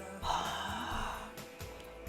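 A breathy exhale through the mouth during yoga breathing, made as if fogging a mirror, comes as a long soft rushing breath close to the microphone, followed by quieter breaths.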